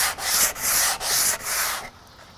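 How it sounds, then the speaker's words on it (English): Rough knotty alder boards being sanded by hand, four steady back-and-forth strokes of hissing abrasion with short breaks between them, close up, then quiet. "so I definitely run them through the planer and sand these edges"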